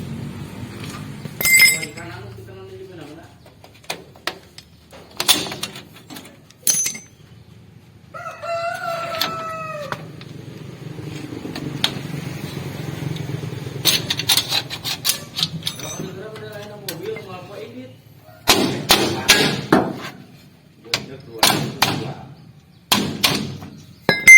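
Sharp hammer blows on metal while working on the rear wheel bearing and axle of a Mitsubishi L300, a few scattered early and then a quicker burst of strikes, with a rooster crowing loudly in the background.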